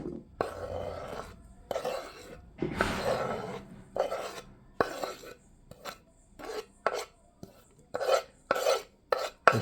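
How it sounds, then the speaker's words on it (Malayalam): A spoon stirs chopped green chilli and onion through beaten egg omelette mixture in a bowl, giving repeated wet, rasping scrapes in an uneven rhythm, close and clear with no talking. "മൊത്തം ഈ പച്ചമുളകും ഉള്ളി എല്ലാം കൂടി ഇതിലേക്ക് മിക്സ് ചെയ്യുകയാണ്."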